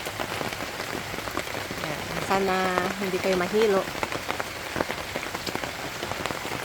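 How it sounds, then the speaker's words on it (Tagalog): Steady rain falls on a succulent garden during a long spell of wet weather, a dense, continuous patter of drops on surfaces. A person speaks briefly partway through. "Ang ulan dito sa amin guys, simula December 27, ngayon January 4 na, walang stop pa rin ang ulan guys."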